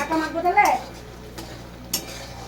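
Amla pickle being stirred in a pan with fried spices, a few scraping, clinking strokes early on over a faint background hum, then quieter with a single sharp clink near the end.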